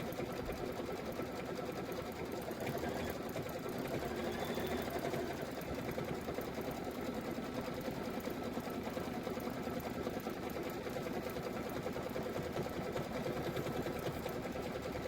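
An embroidery machine stitches the outer ring of a flower pillow block, its rapid needle chatter droning continuously and evenly at close range for the whole stretch.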